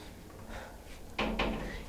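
A glass door opens or closes in a home, two quick close knocks near the end after a short quiet stretch with faint rustling, with no talking.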